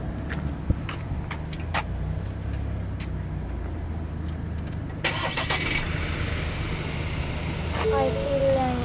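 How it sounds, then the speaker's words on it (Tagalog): A truck engine rumbles steadily nearby at a low idle, with a brief sharper burst partway through, while a voice speaks over it. "There is the truck."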